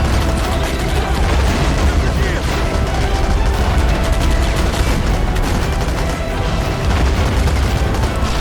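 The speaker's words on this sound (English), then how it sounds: "Got some field artillery right here as well. Kinda want to see this shoot." Field artillery fires in the war game Army Men of War amid a loud, dense battle of continuous booms and rattling gunfire, relentless and close, with a voice occasionally talking over the din.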